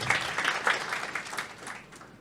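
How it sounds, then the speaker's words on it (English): An audience at a Women in AI Summit panel discussion claps, a short, fairly faint burst of applause that fades out over about two seconds. "Let's give a clap to Anand."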